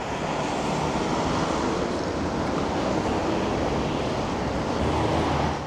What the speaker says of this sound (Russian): И холодно здесь, ветер прямо неприятный.